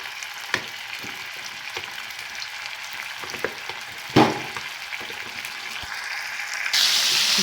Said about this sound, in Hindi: और उसमें इन टिक्कों को हम कर लेते हैं तेज़ आग पे अच्छी तरह फ्राई।